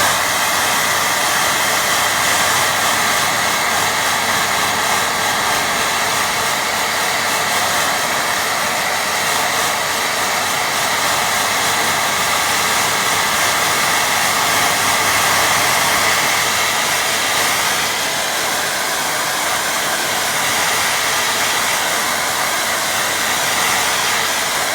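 A hair dryer blows steadily over a watercolour painting of reflections in water, a loud continuous rushing whirr that holds unbroken throughout with no voices.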